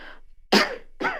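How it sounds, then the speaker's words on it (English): One person coughs twice, two short close bursts about half a second apart, with a brief breathy sound before them. "I want to tell you why I cough"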